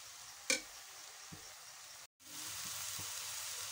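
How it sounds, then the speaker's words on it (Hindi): Grated carrot for gajar ka halwa roasting in ghee gives a soft, steady sizzle with a couple of light clinks and a brief dropout before the frying hiss resumes, with no voices. "घी डाल के हमने इसकी कस के एक अच्छी सी बुनाई करनी है"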